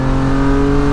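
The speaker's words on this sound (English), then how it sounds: "I'm gonna be accelerating in third, and I'm gonna open the exhaust." A BMW G8x M3/M4 with equal-length exhaust, downpipes and exhaust valves open revs hard accelerating in third gear, a loud, steady exhaust drone that stays close and constant throughout the whole second.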